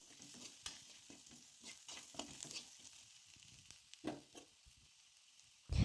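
Masala powder, cumin and turmeric are stirred in a pan of hot oil, making soft scraping strokes over a faint sizzle, close and quiet, with a louder clatter near the end.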